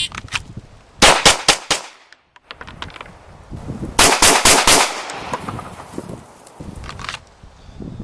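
Pistol shots fired in rapid strings during a 1-10 shooting drill, loud sharp cracks in two fast bursts of about five rounds with a pause between, no talk.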